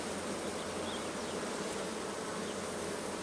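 Honeybees buzz in an opened hive where they are drawing comb and storing sugar syrup, a dense, continuous, even drone close by with no voices.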